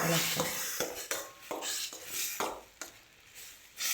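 Spoon knocking and scraping against a pot while stirring cucumber pachadi, a series of sharp metallic clinks at irregular intervals, close and fairly quiet.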